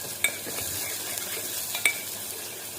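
Tomato, onion and green chili sizzle steadily in a pan, a close, continuous frying hiss with a couple of sharp utensil taps against the metal, and no voices.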